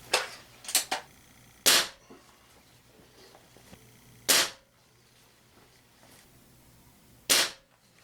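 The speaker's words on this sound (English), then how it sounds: "now we're going to shoot 5 rounds of RWS Hobby 7 grain lead pellets" Three sharp, isolated shots from a Crosman TR77 NPS .177 short-barrel air rifle firing RWS Hobby 7-grain lead pellets, each a crisp crack with a brief tail, spaced a few seconds apart after a couple of small handling clicks; no talking.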